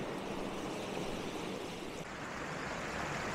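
Water pouring across a flooded path in Carding Mill Valley like a small waterfall, a steady, close broadband rush that never lets up.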